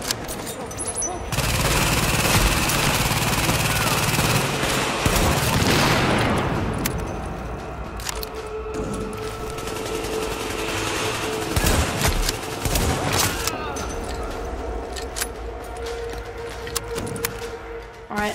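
Gunfire in The Division: heavy sustained automatic fire from a placed turret and sniper shots, a loud burst over the first several seconds, then scattered sharp shots and booms.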